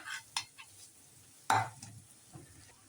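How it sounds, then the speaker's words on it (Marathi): Finely chopped potato dropped into a hot pan with turmeric and salt for a South Indian potato bhaji, then stirred: a soft sizzle and scraping stir strokes, with one louder clatter midway. "आता घालूया बारीक केलेला बटाटा"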